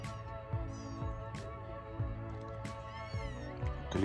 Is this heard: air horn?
no